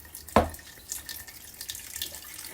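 A kitchen tap splashes briefly as a little water goes into a chocolate brownie mixture, with one sharp close splash followed by softer trickling and drips.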